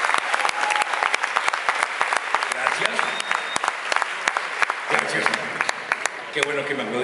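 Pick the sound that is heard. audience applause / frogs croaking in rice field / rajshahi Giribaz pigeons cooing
audience applause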